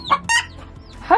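Small farm-store chicks and a hen fill a short burst of clucking and bright peeping chirps, close by, in two quick bursts with a gap between.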